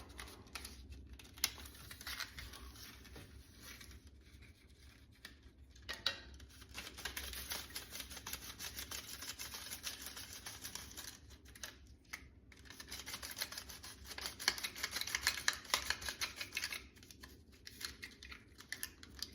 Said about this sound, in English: and you just ratchet it